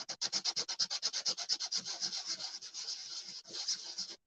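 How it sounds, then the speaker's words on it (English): A wooden St. Patrick's Day shelf sitter gets sanded by hand in quick rhythmic back-and-forth strokes, close and crisp, slowing into longer rubs near the end, with no talking. "just give it a little bit of sanding"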